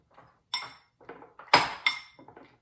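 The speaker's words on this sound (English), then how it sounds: "So you can mash them." Cooked pinto beans mashed in a bowl, heard as several separate sharp clinks and knocks of a utensil against the bowl with short pauses between, close and fairly clear.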